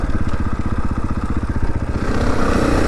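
KTM 500 dirt bike ridden on an off-road track, its single-cylinder engine thumping in a fast, close, loud rhythmic pulse that shifts slightly as the rider works the throttle.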